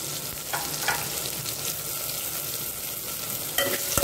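Ginger, pepper, spices and coconut being sautéed in a pan, a continuous close sizzle with a few scraping stirs and a sharper clatter near the end, no voices.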